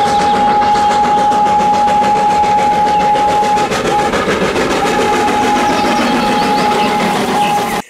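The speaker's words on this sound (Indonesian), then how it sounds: "Kereta Thomas." A Thomas toy train engine runs with a loud, close, steady mechanical whir and a constant high hum that carries on without a break for several seconds.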